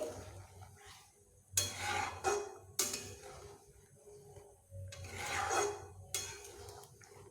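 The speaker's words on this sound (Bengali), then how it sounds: "এইবার আমি খুব ভালোভাবে মিশিয়ে নেব সবগুলোকে একসঙ্গে" A spoon scrapes through a paneer curry mixture as milk is stirred in, making rhythmic rasping strokes in pairs with short pauses between them, close and moderately quiet, without speech.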